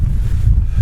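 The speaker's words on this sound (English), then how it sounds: "That wind, it's pretty icy, which is a shock in August." Icy August wind gusts across a Lake District fell near Robinson, a loud, constant rumbling buffet against the microphone with no break across the brief moment.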